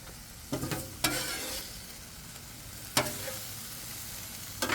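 A cheesesteak sizzles and fries on a Blackstone griddle under a lid, a steady close crackle broken by a few sharp metallic scrapes or clanks from stirring.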